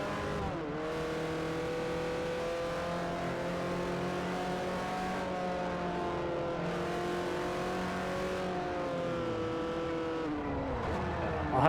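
Race car engines in the Forza Motorsport 4 video game rev and climb through the gears, a sustained harmonic roar with repeated upshifts and a dip near the end, steady and close, with no talk over it.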